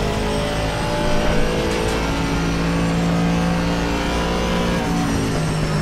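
Race car engine in the Assetto Corsa Competizione game, driving through the corners at Suzuka: a steady, loud harmonic engine drone with rising and falling pitch as the car brakes and accelerates, no talking.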